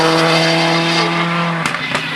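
A rally car on a closed-road stage of the East Riding Beverley & Motor Club Rally runs at a loud, steady engine note, then drops off abruptly under hard braking with a short burst of noise near the end.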